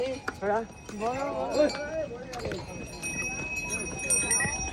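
Horses walk along the Kedarnath trek trail in the mountains, their hooves clip-clopping steadily with faint clinks, under close, continuous conversation.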